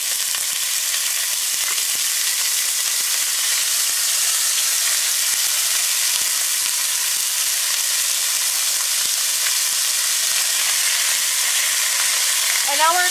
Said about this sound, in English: now we're just going to cook these steaks off until they're done